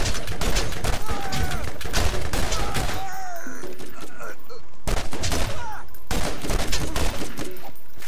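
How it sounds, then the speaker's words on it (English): In Borderlands a shotgun blasts at enemies amid a chaotic firefight, with rapid repeated loud shots and bursts of gunfire filling the scene while a voice talks over part of it. "I walk slowly towards you and pump you full of shotgun shells."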